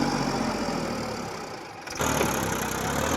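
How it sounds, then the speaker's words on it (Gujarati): Massey Ferguson 1035 tractor engine drones steadily as it strains to pull another tractor out of field mud, dipping slightly before surging louder again near the end, with no voices. "આ ટ્રેક્ટર ઉઠાવી રહ્યું છે હવે મિટ્ટીથી બહાર કાઢી રહ્યો છે"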